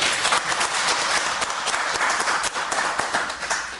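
A lecture audience in Korea applauds, a dense, steady wash of many hands clapping throughout, moderately loud and continuous.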